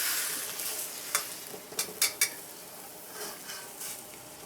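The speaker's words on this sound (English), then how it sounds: "you pull the eggs up and just kind of fold it on top of each other" Eggs sizzle in an oiled pan as they are pulled up and folded over, a continuous frying hiss punctuated by several quick utensil scrapes and taps against the pan.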